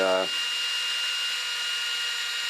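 A steady high-pitched whine of a small center drill running continuously into solid nylon, following a brief low mechanical hum at the start.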